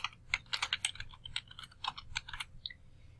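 Quick bursts of keystrokes on a computer keyboard, close and fairly quiet, a short uneven run of clicks ending with a couple of lighter taps.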